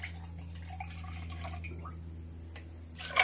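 Lime juice trickles from a measuring cup into another cup while a Navy Grog cocktail is made, a soft, thin pour with a few faint drips against a quiet background hum.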